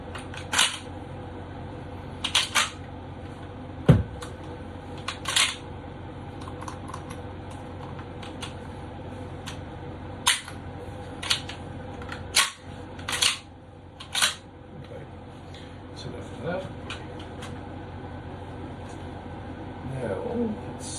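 A Mossberg 500A shotgun is worked through a function test, its action and trigger giving a scattered run of sharp mechanical clicks and clacks against a quiet room, with speech in places.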